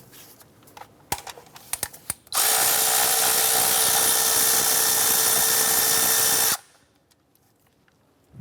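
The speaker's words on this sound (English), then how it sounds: "Using our 10mm socket, let's go ahead and remove our" A 10mm socket tool backs out a bolt near the ignition coil of a 2008-2012 Honda Accord, a loud steady whirring burst of about four seconds after a few light clicks, then quiet.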